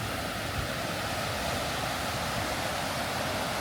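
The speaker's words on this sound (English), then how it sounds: "River's still relatively high to where it" A high, swollen river rushes steadily past near Waynesville, North Carolina, in the aftermath of Hurricane Helene, producing a loud, constant broadband roar of churning water with no pauses or voices.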